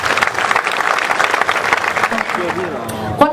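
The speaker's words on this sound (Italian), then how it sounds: "L'applauso va a Stefano Cherchi." Audience applause for a songwriter and winner of the Fabrizio De André prize at an Italian songwriters' award ceremony: dense, steady clapping from a crowd that thins toward the end, with a voice speaking briefly over the last second.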